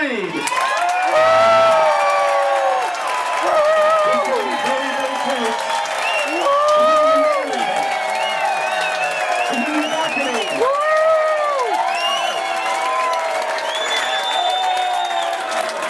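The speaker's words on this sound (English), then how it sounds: "And we do that by your applause." A cruise ship audience votes by applause, loud sustained clapping mixed with cheering, whoops and shouted voices, including children, rising and falling in waves across the whole stretch.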